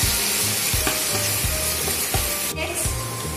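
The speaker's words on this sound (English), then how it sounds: "I'll put the onion, the grated onion, and I'll fry it nicely." Grated onion fries in a hot pan for a Matar Paneer gravy, a loud steady sizzle broken by several sharp scrapes and knocks from stirring, with no voices.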